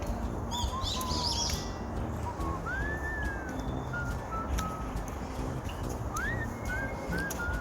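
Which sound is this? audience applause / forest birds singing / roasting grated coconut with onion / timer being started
forest birds singing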